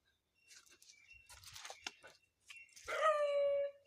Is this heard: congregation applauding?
no